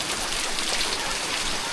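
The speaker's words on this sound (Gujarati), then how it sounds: "જોવો મિત્રો, ફૂલ વરસાદ છે અત્યારે." Heavy rain pours down at Pavagadh Mahakali temple, a dense, loud, unbroken hiss of drops striking surfaces all around, with no voices.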